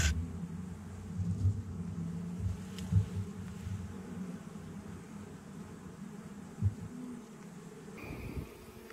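Honey bees from a swarm caught in a swarm trap, a steady low buzzing drone close by with brief louder passes, continuous and without speech.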